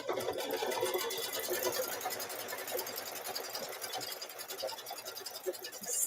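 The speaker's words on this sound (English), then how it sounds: "Stitching. Just keep stitching." A sewing machine stitches fabric pieces together, a fast, steady whirring buzz with rapid needle ticks running close and continuous, easing slightly at moments.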